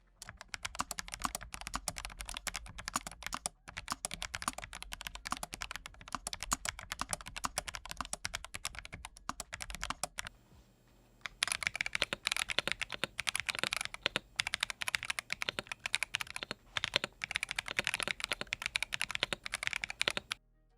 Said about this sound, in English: here's a quick comparison sound test against the BlackWidow V4 Pro 75